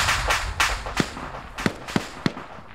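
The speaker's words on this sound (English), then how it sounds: "Oh, Ilvanek, I think, got blown up in that grenade explosion" Grenade blasts in a Soviets-versus-NATO military shooter game land as a string of sharp, loud cracks over a murky rumble, five or six bursts spaced unevenly through the stretch.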